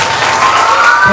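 Audience at a school showcase event at Bright Concept School breaking into a round of applause and claps for Mr. Prabhu, a loud, dense wash of clapping with some voices mixed in, brief and continuous.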